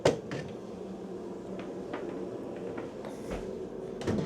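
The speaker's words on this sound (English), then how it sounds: "Let me open a few cabinets here." Kitchen cabinets on a 52 ft Jefferson Monticello liveaboard boat being opened, a string of faint knocks, clicks and soft thuds from wooden doors spread over several seconds in a quiet interior.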